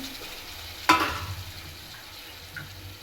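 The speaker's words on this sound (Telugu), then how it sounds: "టమాటాలు వేసుకుందాం." Chopped tomatoes dropped into a hot pan for a dal with amaranth leaves and moong dal: one sharp sizzling hiss on contact that quickly fades to a low simmering frizzle, with a faint stir afterward.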